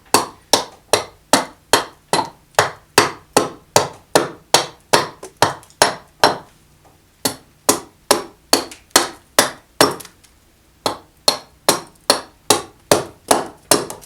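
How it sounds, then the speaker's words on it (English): Steady axe chops carving the outside of an English walnut kuksa cup, sharp close impacts about twice a second with two short pauses, no talking. "So this is English walnut that I'm carving."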